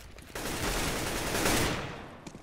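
Sustained automatic gunfire sprays in a dense burst during a CS:GO competitive match, fired through a smoke cloud; the rapid shots run loud and continuous for about two seconds before cutting off.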